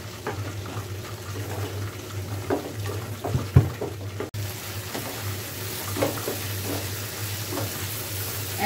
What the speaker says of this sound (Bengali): আবার ভেজে নিব।